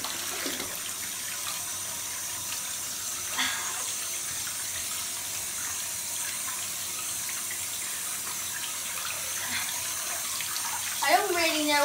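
Bath water pours steadily from a tap into a tub where a Lush Christmas penguin bubble bar is dissolving, a continuous close hiss with small splashes, and a voice briefly speaks near the end.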